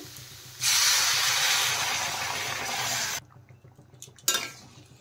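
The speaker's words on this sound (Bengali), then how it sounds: "এখন আমি এর মধ্যে জল দিয়ে দিলাম।" Water poured into masala soybeans frying in a pan sets off a loud, sudden sizzle that hisses steadily for nearly three seconds and then drops to quieter bubbling. A brief clatter follows at the end.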